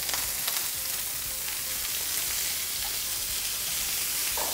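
Food sizzling in a hot coated pan, a steady broadband crackle and hiss heard close and alone without talk, with occasional small pops.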